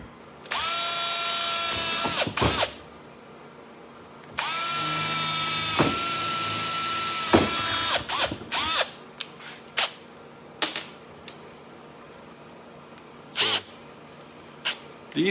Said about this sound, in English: These were just pilot holes, very small, with a tiny drill bit.